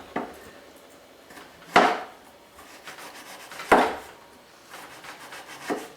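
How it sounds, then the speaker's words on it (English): A knife slices ginger root into paper-thin shavings on a cutting board, giving a few sharp, separate cuts spaced about two seconds apart, close and fairly quiet, with no talking. "Sometimes you could even take some of the ginger root and slice it very"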